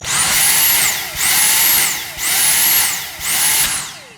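A Dyson V6 Fluffy cordless vacuum cleaner, blocked, pulses in four loud, even surges, its high motor whine rising and cutting out roughly once a second.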